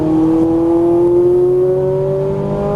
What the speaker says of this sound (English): Accelerate, you're good. Full throttle out.